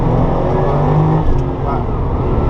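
A Porsche 993 Turbo engine revs up toward 6,200 RPM, a loud, steady growl that swells and then eases slightly, with a voice faintly present.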